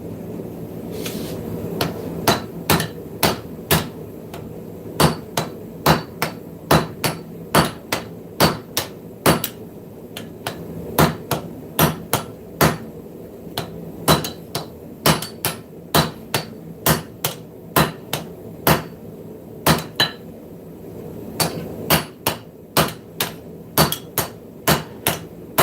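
A smith hammers hot metal on an anvil in a forging shop, producing a long series of sharp, ringing metallic strikes in a steady rhythm with brief pauses between bursts, loud and close with no talk.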